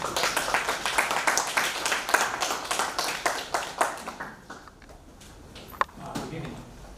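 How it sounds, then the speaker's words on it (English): An audience at a youth agripreneurs side event in Kenya claps in a brisk, fairly loud burst that thins out and fades after about four seconds, leaving a few stray taps and quiet room noise. "Let's clap for Geoffrey."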